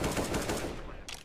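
Rapid automatic gunfire in a multiplayer shooter video game, a dense burst of loud shots that keeps rattling for about a second, then a brief sharper blast at the end.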